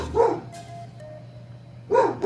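A large black dog barks twice outdoors, one short gruff bark near the start and another near the end, close and fairly loud with a quiet pause between.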